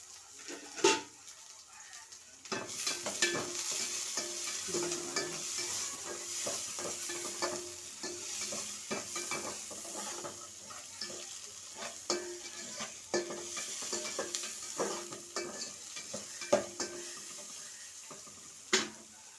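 Kilangu is sautéed with salt in a pan, with frequent spoon scrapes and taps in an irregular rhythm over a low, continuous sizzle, fairly quiet and close, with brief running water in the background.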